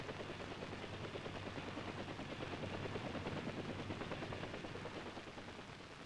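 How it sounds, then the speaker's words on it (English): A UH-1A armed military helicopter's rotor thumps in a fast, steady chop under a loud, continuous engine roar that holds for the whole stretch. "UH-1A armed helicopter."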